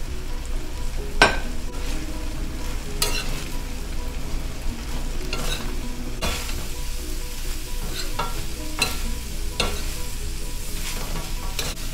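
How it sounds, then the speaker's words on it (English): Beef cubes stir-fry with a pound of broccoli and a large onion, a continuous close sizzle broken by sharp scrapes and clacks of a utensil against the pan every second or two. "I've been stirring it, just putting it together"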